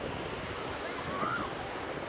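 Surf rolls onto a sandy beach at Son Patiphat on the Thai coast, a steady wash of waves and wind that stays even through a brief moment, with no clear speech.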